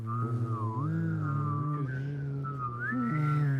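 A single person whistles a wavering melody of sliding tones, close and fairly quiet, with a low steady hum beneath.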